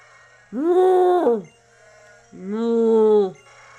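Tauros cries twice in the Pokémon Moon video game, each a loud, bleating bovine call about a second long, separated by a short pause over a quiet background.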